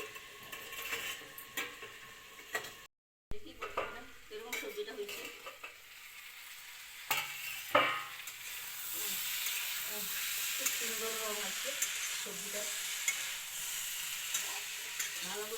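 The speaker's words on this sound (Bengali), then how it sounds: "খুব ভালো কইরা ইয়া একবারে কড়কড়া কইরা ভাজছে" Mixed vegetables frying crisp in a pan hiss and sizzle steadily while a utensil stirs them with irregular scraping strokes, close by and fairly loud, with a short break early on.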